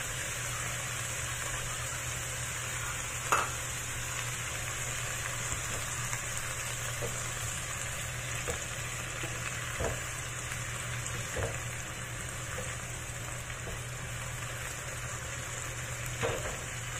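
Cabbage stir-fried with oyster sauce, soy sauce and pork chicharon makes a constant, rain-like sizzle with a low steady hum beneath it, broken by a few faint clicks and taps from the pan over a long stretch.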